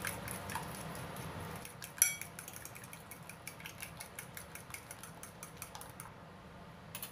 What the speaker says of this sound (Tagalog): Tapos, haluin na naman natin.